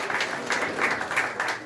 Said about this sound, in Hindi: जोरदार तालियों से उनका सम्मान